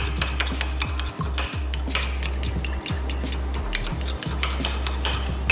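Eggs being beaten in a bowl for egg fried rice: rapid rhythmic clinking of a utensil against the bowl, close and clear, with brief pauses between strokes.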